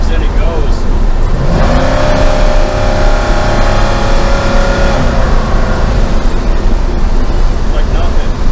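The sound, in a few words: 40-year-old high-power truck accelerating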